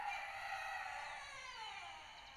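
Faint, distant rooster crowing with a drawn-out call, set against a quiet outdoor background.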